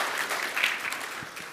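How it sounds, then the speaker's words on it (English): Brief conference audience applause, a moderately loud patter of many hands clapping that swells slightly and then tapers off, with no speech. "Everybody give Hugh a round of applause."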